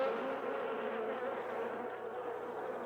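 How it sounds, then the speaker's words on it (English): Dense, continuous buzzing of many honeybees, a close, steady hum with no voices. "If the other bees want to know more, they make a special noise."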